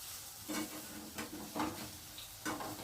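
Raw banana kofta fritters fry in a pan, a faint steady sizzle with several soft scraping stirs or turns at intervals, quiet and close with no talking.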